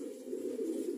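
Pigeons in a loft cooing steadily together, a soft continuous low murmur of overlapping coos close by with no speech.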